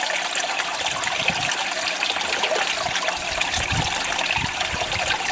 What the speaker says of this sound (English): So you'll see it just gushing out now, like so.